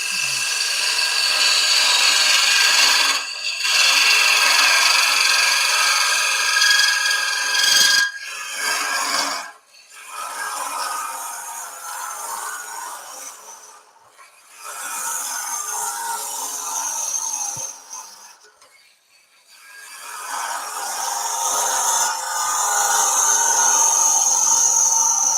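A power drill bores into a block of wood for a pencil pot, grinding steadily in long runs that stop briefly and restart several times, close and loud.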